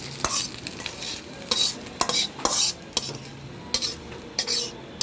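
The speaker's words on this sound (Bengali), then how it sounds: "অন্য সবজি ভাজবে এখন।" Vegetables for homemade fried rice sizzle in a pan, with a utensil scraping and stirring in repeated sharp strokes over a steady background frying hiss, close and fairly loud with no voices.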